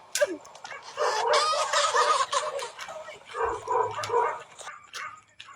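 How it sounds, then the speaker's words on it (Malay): A dog barking repeatedly outdoors at night in Malaysia, sharp yelping barks in quick bursts at a moderate distance, heard alone without talk over them. "Weh anjing weh. Anjing kat sana weh."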